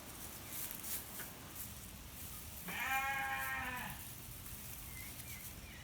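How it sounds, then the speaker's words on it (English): A single sheep bleats once in the distance, a wavering call lasting about a second over faint background noise. "You can hear my sheep in the background."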